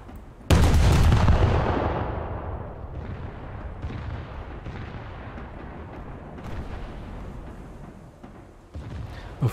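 Boat guns in a naval video game fire a loud, booming artillery blast that rolls off into a long, rumbling decay, followed by several fainter distant thuds and a sharp final shot.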